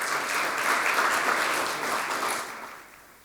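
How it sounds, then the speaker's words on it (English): Dense audience applause at an investment seminar, a loud, even wash of many hands that holds steady for a few seconds before fading out. "So that itself deserves a round of applause for all of us."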